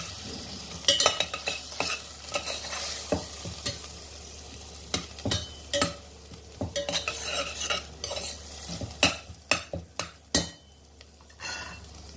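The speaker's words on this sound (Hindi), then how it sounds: "मसाला हमारा अच्छे से भुन चुका है। अच्छे से ऑयल सेपरेट हो रहा है।" Chole spice paste with tomato sizzles in hot oil as a spoon scrapes and stirs the pan in irregular strokes, close and clear with no voices.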